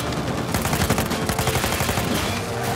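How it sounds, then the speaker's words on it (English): Rapid enemy gunfire in an action video game, a dense, loud stream of overlapping shots filling the whole stretch without pause. "It's shooting at us."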